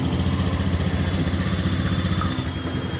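A Honda Beat Street fuel-injected scooter running after being started, its small engine holding a steady, even idle with a continuous mechanical chug and clatter, loud and close throughout, with no talking.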